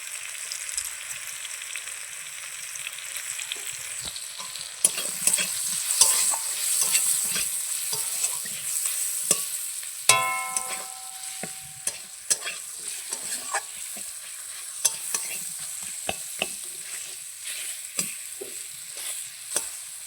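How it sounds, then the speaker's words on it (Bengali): Curry base being fried with turmeric in a pan for gravy, a steady sizzle under frequent spoon scrapes and stirring clatters, close and continuous with no talking. "ভালো করে এটাকে আমি হলুদ দিয়ে ভেজে নেবো, গ্রেভি তৈরি করে নেবো।"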